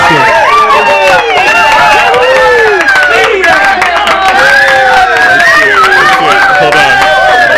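A party crowd cheering effect fired from a podcast soundboard, loud and continuous, with dense whoops, shouts and babbling voices layered throughout.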